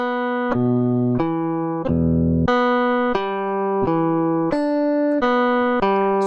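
Echoplex Digital Pro looper in replace mode, a steady sequence of clear pitched notes changing every half second or so, bright and sustained, close and loud with no talking.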